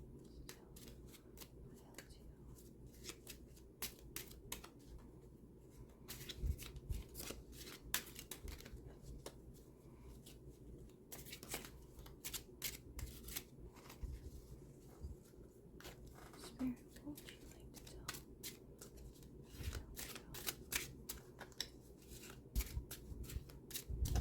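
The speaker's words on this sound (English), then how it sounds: "shuffle the oracle cards here." Oracle cards being shuffled by hand, a steady stream of soft papery flicks and riffles running continuously under a quiet room hum, close and fairly faint.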